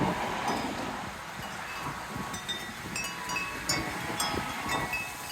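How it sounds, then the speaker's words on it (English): Wind blows steadily on a windy day in New Jersey, a rumbling gusty rush with light rustling and faint chime-like tinkles on top, fairly loud and continuous, with no talking. "Wind is blowing everywhere."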